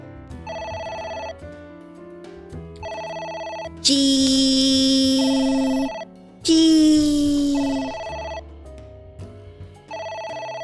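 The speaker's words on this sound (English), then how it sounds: "I hate the sound of ringing." A telephone rings in repeated electronic trills with short pauses in the video game AI: The Somnium Files, joined midway by two loud sustained tones, then the ringing pattern resumes.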